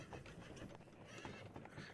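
A horse in a video game whinnies while hooves clop in a quick rhythm, quiet and somewhat distant.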